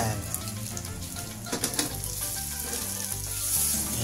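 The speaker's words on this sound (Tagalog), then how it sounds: "So, ipiprito lang natin siya." Snakehead mud fish frying in a small amount of oil, a dense, loud crackling sizzle running throughout, close up, with no talking.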